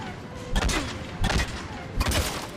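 Three sharp gunshot bursts from Mass Effect 3 ring out about three-quarters of a second apart, each loud and reverberant against a steady background of game ambience.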